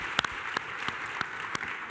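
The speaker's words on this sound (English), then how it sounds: "give yourselves a round of applause" Small audience clapping at a seminar, sparse and uneven with a handful of distinct sharp claps standing out over a soft background patter, fairly quiet overall.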